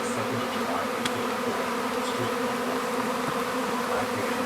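A swarm of bees buzzes near a shed, a dense, steady drone of many insects close by, loud and unbroken with occasional single bees passing nearer.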